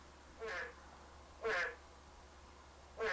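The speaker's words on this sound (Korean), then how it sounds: "개구리 울음소리 들리죠?" Three loud, nasal croaks from narrow-mouthed toads about a second apart, fairly near, against a quiet background at a small fishing reservoir.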